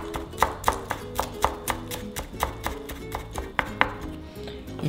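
A knife finely chops tomato on a board in quick, even strokes, roughly a dozen crisp close-up taps in a steady rhythm with no voices.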